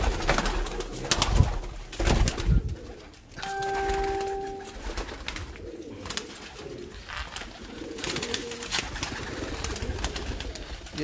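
A pigeon coos in soft, low, rounded calls that repeat through the scene, heard close alongside handling noises, a brief clear ringing tone and background movement.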